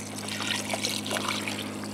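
Zoop soup poured from its container into a cooking pot outdoors, a steady close trickling and splashing of liquid that runs unbroken for the whole stretch, with no talking.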